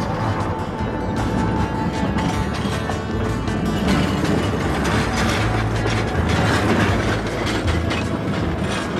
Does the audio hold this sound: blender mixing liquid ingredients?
no